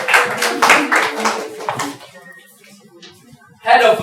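Clapping at a university creative club general meeting for a newly elected officer: a few seconds of loose hand claps mixed with voices, fading to quiet murmur before another loud burst of sound at the end.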